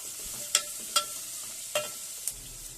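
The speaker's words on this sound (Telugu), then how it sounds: "చూడండి, లైట్గా ఫ్రై అవుతున్నాయి చూడండి." Green chillies and brinjals fry lightly in a pan for a drumstick dal dish, a faint low sizzle with a few sharp clinks of a spoon against the pan spaced irregularly.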